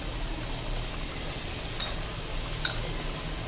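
Salt, turmeric, red chilli and coriander powder being mixed into palak chicken in a pot, a steady low sizzle with a couple of faint spoon ticks.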